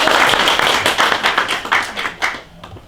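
A small audience at a book talk show claps in loose, uneven bursts that quickly thin to a few scattered claps and fade out within a few seconds.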